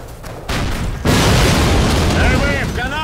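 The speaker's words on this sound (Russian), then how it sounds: "Пушка сейчас бабахнет!" In the Call of Duty video game, a cannon fires with a loud, heavy boom that rolls into a sustained rumble, with game voices shouting over it.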